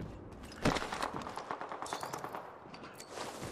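Gunfire in the video game Apex Legends: a sharp shot up front, then a steady run of rapid automatic bursts at moderate loudness over a busy game soundscape.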